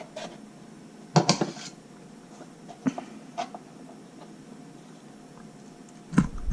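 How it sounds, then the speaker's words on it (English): A knife chops vegetables on a cutting board with a few sharp, close knocks scattered irregularly among quieter kitchen handling sounds. "Or you can just chop it like this."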